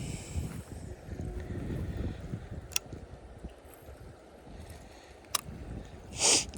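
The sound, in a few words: wind outdoors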